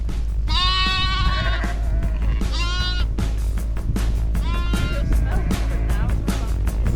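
Several sheep bleat on an Australian farm, three loud wavering calls close by over a constant low engine-like rumble.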